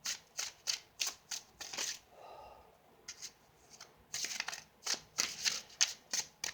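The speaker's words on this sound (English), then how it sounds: "I like to shuffle once the camera is rolling" Cards being shuffled in quick riffling bursts, a steady run of crisp flutters, a brief pause, then more rapid shuffling, close and clear.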